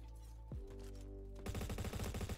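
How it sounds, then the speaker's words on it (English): Rapid automatic AK rifle fire in the Roblox-style shooter Bad Business, a dense burst of fast repeated shots kicking in after a sharp earlier crack over a humming game background, with no talking. "That's an AK."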